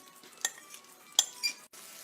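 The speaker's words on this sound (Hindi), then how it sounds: "इनको साथ साथ मिक्स करते जाना है, कहीं ये जल ना जाए।" A spoon stirs chicken tikka masala in a pan over low heat, with faint sizzling and two sharp metal clinks against the pan.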